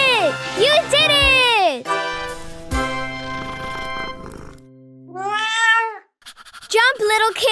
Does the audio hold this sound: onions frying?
no